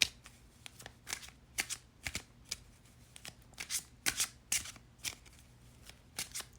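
A Kipper card deck being shuffled by hand: quick, uneven bursts of soft riffling and flicking cards, close but quiet, repeating throughout.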